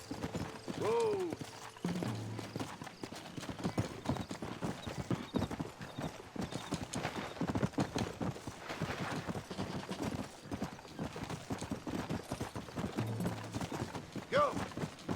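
Horse hooves clip-clop steadily through most of the stretch in the Red Dead Redemption video game, with a brief whinny early on, while someone talks over the riding at moderate level.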